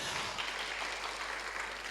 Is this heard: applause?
yes